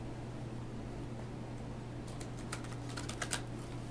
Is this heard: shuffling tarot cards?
yes